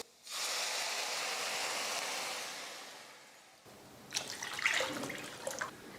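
Water poured into a pan on the stove for a Tamil-style chutney, a steady close rushing gush for about three seconds, then a quieter splashing and trickling as the flow settles.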